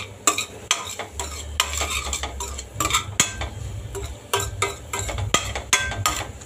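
A spoon stirs prawn curry masala in a pan, scraping and clinking against the metal in repeated close strokes over a low sizzle, with no talking.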